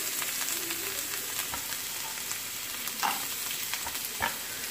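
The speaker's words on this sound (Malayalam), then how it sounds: "അപ്പം ആദ്യം ക്യാരറ്റ് ഇട്ട് കൊടുക്കുക." Chopped carrots fry in a pan for kovakka carrot upperi, giving a steady close sizzle with a few soft stirring scrapes and no talking.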